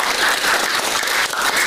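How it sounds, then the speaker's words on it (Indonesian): Classroom students applauding together, a brief, dense burst of steady clapping from many hands close by, with no talking over it. "Kita tepuk tangan dulu untuk itu."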